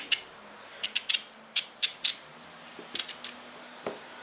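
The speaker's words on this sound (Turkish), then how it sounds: "Bunu da ortadan kesiyorum. Biraz inceltiyorum." A knife slices through watermelon rind in short, crisp cuts, arriving singly and in quick pairs against a quiet kitchen background, close and fairly faint, with no speech.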